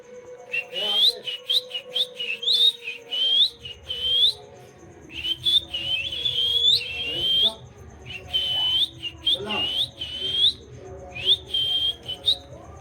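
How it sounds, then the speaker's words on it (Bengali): A person and a myna bird trade whistles in turn, repeated short rising chirps and whistled phrases close by, with soft background noise and occasional voices. "আচ্ছা, একটু শীষ মারা কম্পিটিশন হবে দুজনে।"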